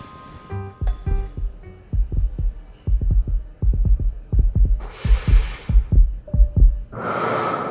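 Steady synthetic heartbeat thumps from the romance game Love and Deepspace, a long run of regular double beats, close and prominent, broken near the end by two bright bursts of noise.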